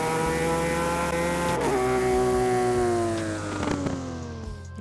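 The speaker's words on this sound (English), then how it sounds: "Handbrake turn!" Car engine in Rent a Car Simulator 24 revving hard through a handbrake turn, with loud sustained engine harmonics sliding in pitch and tire squeal over a steady low rumble, no talk.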